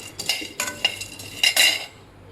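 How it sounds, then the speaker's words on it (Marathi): Pumpkin seeds roast in a dry kadhai, and a spoon stirs them in quick scraping, clinking strokes that bunch together toward the end before stopping. "आता आपण कढईमध्ये भाजून घेऊया भोपळ्याचं बी"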